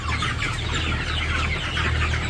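A flock of village farm chickens clucks and chatters continuously, overlapping calls close by above a steady low background drone.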